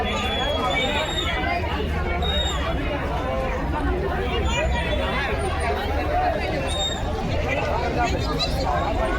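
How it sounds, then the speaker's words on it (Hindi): Busy crowd chatter at Bhuvneshwari Talkies cinema in Kawardha on a Mangalsutra screening day, a steady, thick babble of nearby voices with occasional louder calls rising out of it. "यहाँ देख सकते हो चारों तरफ भारी भीड़ है यहाँ"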